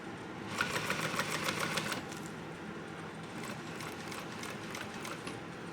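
A home sewing machine top stitches a bucket backpack slowly, a steady mechanical whir with rapid needle ticking that runs continuously, close and fairly loud.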